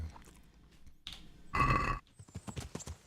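A horse ridden in the medieval video game Kingdom Come Deliverance, with faint hoofbeats followed by a louder burst of hooves and a few quick clops, heard alone without talk.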